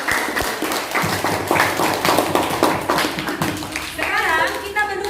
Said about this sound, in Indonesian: Oke, kita berikan tepuk tangan untuk.